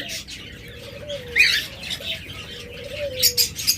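Pet lovebirds and cockatiels of assorted colour mutations call from their cages at a bird sale, with sharp chirps and squawks bursting out intermittently over a steady low hum.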